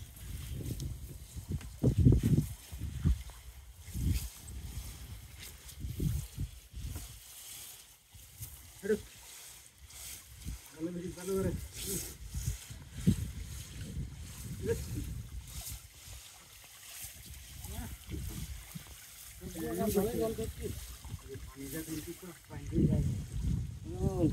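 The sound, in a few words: fishing trawler at sea hauling in a net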